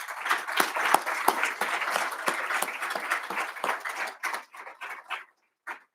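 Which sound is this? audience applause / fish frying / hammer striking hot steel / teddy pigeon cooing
audience applause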